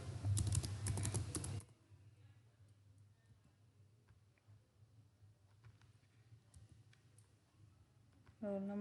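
Quiet, close keyboard typing clicks out a SQL query in irregular bursts of light taps, following a man's speech and continuing alone.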